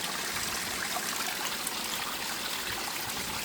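Water pours steadily over stacked rocks in a small backyard waterfall, a constant close rushing and splashing with no pauses or voices.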